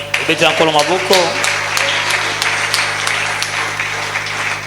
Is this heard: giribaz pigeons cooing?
no